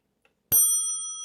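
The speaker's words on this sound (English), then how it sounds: "this has a 30-minute bell" An antique 1913 Ingraham black mantle clock, the Centaur model, sounds a single clear bell strike after a faint tick, the bright metallic tone ringing on and slowly decaying, close and alone.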